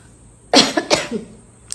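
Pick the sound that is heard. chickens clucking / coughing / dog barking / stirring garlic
coughing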